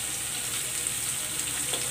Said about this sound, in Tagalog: Igisa ko na tong sibuyas.